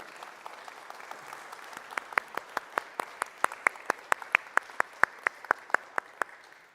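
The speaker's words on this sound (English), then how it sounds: "a round of applause for Alex, for Esther and Neo." Audience applause in a Sunday church gathering, a steady patter of scattered hand claps that grows into evenly spaced, sharper individual claps, close and moderately loud with no talking over it.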